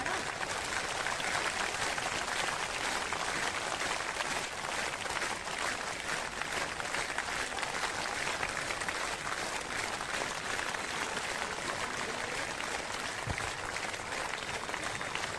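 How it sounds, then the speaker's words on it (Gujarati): A large audience claps steadily through a religious discourse, a dense, even patter of many hands that holds at the same level throughout, with no clear talking over it. "એ તાળી તો પાડો"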